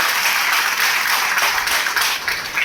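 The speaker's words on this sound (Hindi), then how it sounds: "जोरदार तालियां होनी चाहिए।" Strong crowd applause at a farmers' beekeeping training event in Guna, dense and steady clapping from a large audience, loud and continuous without a break.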